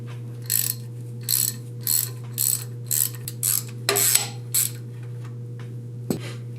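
Socket ratchet loosening motor mount bolts on a John Deere 755 mower: about nine short, evenly spaced clicking bursts of ratcheting, close up, over a steady low hum, followed by a pause and a single sharp knock.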